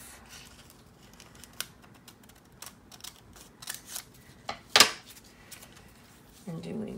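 Crisp, close scissor snips cutting a gold border off a page of a 1987 Cosmo magazine, a series of light clicks building to one sharp louder cut near the end, with a voice faintly present.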